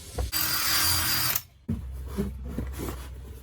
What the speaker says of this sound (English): I'll drill a hole here big enough to take this cable